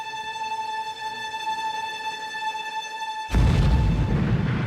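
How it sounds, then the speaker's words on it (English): A house explodes in an airstrike, a sudden heavy distant boom that breaks into rolling broadband rumble after a stretch of steady tonal background hum. "the house just exploded."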